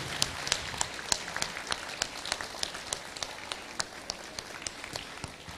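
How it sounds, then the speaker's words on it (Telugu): An audience at a Guru Pournami celebration gives steady, sustained applause, with many hands clapping in a continuous even patter, moderately loud and without a break. "ఒకసారి గట్టిగా చప్పట్లతో"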